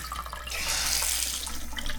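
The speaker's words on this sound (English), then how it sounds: "cold water from the sink" Cold water gushes steadily at full pressure from a travel trailer's sink faucet, a close, bright splashing rush with no voices.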